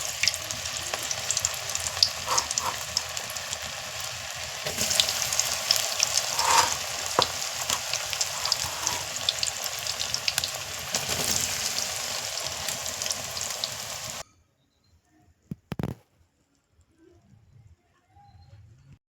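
An egg omelette sizzling in a pan, a steady close frying hiss with faint stirring and a bird cooing in the background; the frying stops abruptly, leaving near silence with a couple of brief knocks.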